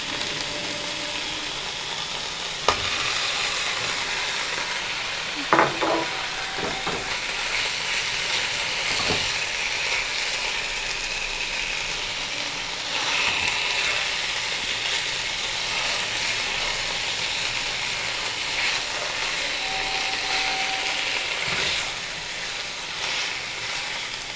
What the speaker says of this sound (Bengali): ম্যারিনেট করা চিকেনটা এটা দিয়ে দেব এবার